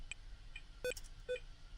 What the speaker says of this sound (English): anytime I push any button, it just makes a beep noise